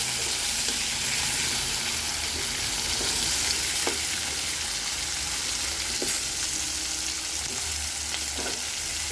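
New potatoes frying in hot oil for a Bengali fish curry, a steady close sizzle with occasional small pops and stirring scrapes, no talk over it.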